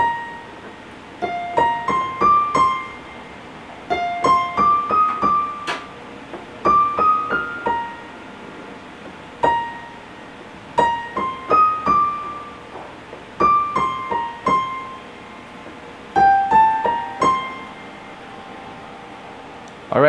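Right-hand piano melody from the intro of a song, played as a single line of clear, separate notes in short rising phrases with brief pauses between them, moderately loud with no voice over it.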